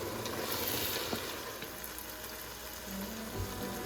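Vegetable broth simmers with the rice in a risotto pan with asparagus, giving a soft, steady sizzle and bubbling hiss that stays fairly faint and continuous throughout.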